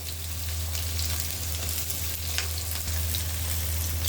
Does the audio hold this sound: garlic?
yes